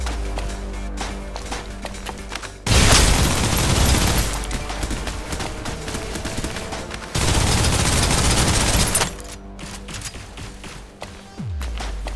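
Bursts of suppressive automatic gunfire from the shooter game Snowbreak: Containment Zone, two loud sustained volleys of rapid shots broken by quieter gaps of scattered game noise.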